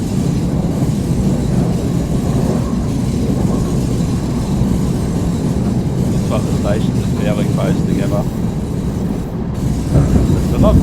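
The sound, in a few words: Hamburg train running in video game Train Simulator Classic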